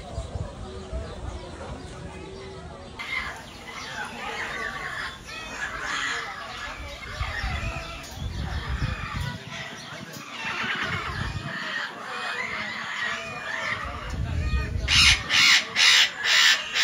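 Colourful birds calling at Safari Madrid, harsh crow-like and rooster-like calls scattered through a busy outdoor scene, with people talking over them and a burst of rapid repeated calls near the end.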